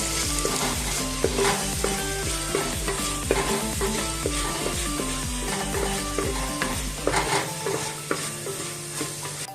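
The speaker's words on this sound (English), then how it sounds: "we fry this tomato along with the onion till it is nice and soft" Finely chopped tomato frying with onion in a pan, a dense, continuous sizzle with occasional spatula scrapes and stirring knocks, close and steady throughout.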